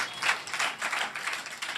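A church congregation claps together in praise of God, a dense, steady patter of many hands lasting a couple of seconds, with no voices over it.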